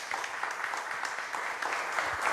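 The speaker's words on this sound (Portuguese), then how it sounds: "Uma salva de palmas." Applause from a church congregation welcoming a visitor, a steady wash of many hands clapping at moderate volume for a couple of seconds with no voices over it.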